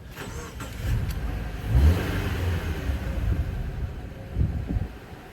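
A 2013 Subaru Impreza with a replacement engine runs nearby, a steady low idle with a couple of brief swells in revs and no talking.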